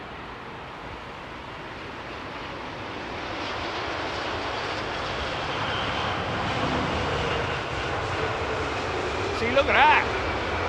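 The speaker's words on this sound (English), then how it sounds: "see the front wheels still in the air as the reversers are being activated" A jet airliner touches down at London Heathrow with its thrust reversers deploying, a broad rising roar that swells and holds. Someone speaks briefly over it near the end.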